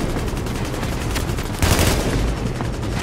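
Continuous automatic gunfire in the video game Tom Clancy's The Division: rapid, unbroken shots rattling loudly throughout, with a heavier surge midway.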